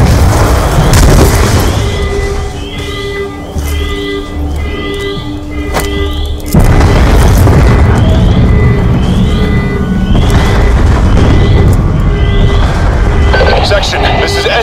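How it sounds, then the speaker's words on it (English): Repeated deep booms and blasts rumble through a dense Call of Duty: Black Ops II soundscape at a facility, loud and continuous, with overlapping impacts and a sudden heavier burst midway. "We're monitoring multiple explosions across the facility."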